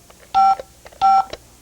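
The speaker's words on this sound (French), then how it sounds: "Ça fait des bips un peu inquiétants." Two short telephone keypad button presses, each a clear, loud two-tone DTMF beep lasting about a quarter second, separated by a brief pause with faint clicks around them.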